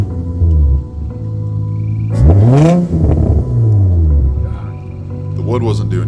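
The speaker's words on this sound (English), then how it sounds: "This thing will rev to the moon with very little effort." An Infiniti G35 coupe with a VQ engine revs hard, its pitch sweeping up and falling back in loud, close bursts, with a rougher engine drone in between.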